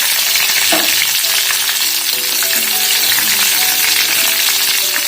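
Mustard seeds crackle and pop in hot oil for a tempering before adding crushed garlic, a loud, dense sizzle with rapid sputtering close by, steady throughout.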